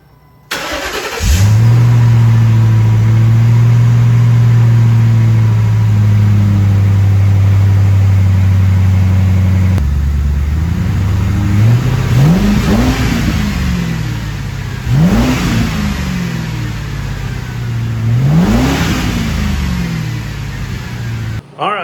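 A 2010 Ford Crown Victoria Police Interceptor V8 with an aftermarket exhaust starts up and settles into a loud steady idle, then gets three sharp blips of the throttle, each rev rising and falling back, close to the car with no talking.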